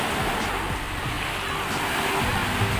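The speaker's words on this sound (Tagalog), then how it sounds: "manunod lang ng hampas ng alon" Waves break and wash onto the shore at San Fabian Beach in Pangasinan, a steady, broad roar of surf with some wind buffeting the microphone and no talking.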